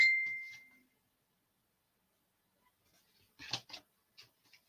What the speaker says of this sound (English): I do have my phone, it's here. You hear it pinging in the background.